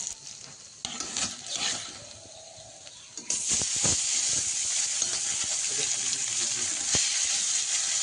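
Fish frying in oil, starting with softer intermittent sizzles and clatter, then swelling into a loud continuous close-up sizzle with occasional sharp pops.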